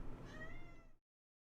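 A pet cat named Mona gives one drawn-out meow, close and clear, lasting about a second before cutting off to silence.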